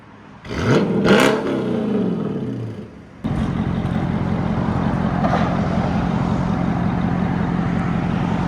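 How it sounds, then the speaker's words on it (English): A Procharged Dodge Charger R/T engine with Corsa Xtreme exhaust blips and revs hard with a rising supercharger whine, falls back, then holds a loud, steady rumbling idle close by. "He likes revving it."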